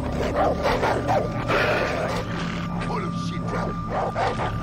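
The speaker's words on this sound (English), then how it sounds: "What is that dog going off about?" A dog barks repeatedly in the jungle shooter Far Cry 3, sharp yaps recurring in quick bursts at mid distance while someone talks over the game sounds.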